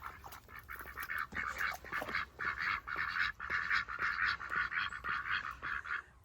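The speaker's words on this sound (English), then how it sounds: "The ducks are hilarious." Domestic ducks on a garden pond give a steady run of quacking calls, near and fairly loud, lasting throughout with no talk.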